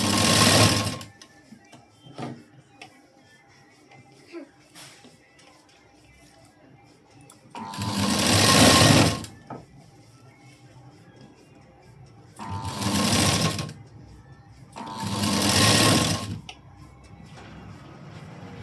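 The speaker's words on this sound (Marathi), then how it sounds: "आता इथे हे मी दुमडून घेतलं आणि शिलाई देते" A sewing machine stitches a folded edge of a blouse's piping in four short bursts spread across the stretch, close and loud, with quiet handling and small clicks in between.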